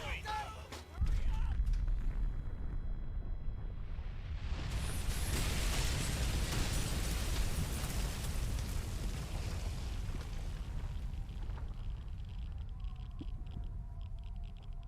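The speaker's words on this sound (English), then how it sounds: "Tactical nukes, goddammit!" Tactical nuke blasts in the 2008 war game Frontlines: Fuel of War hit with a sudden loud boom, then a long sustained roar and rumble of debris that slowly fades, with voices heard faintly beneath.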